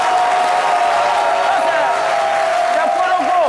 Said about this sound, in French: applaudissez pour les chauffeurs de barre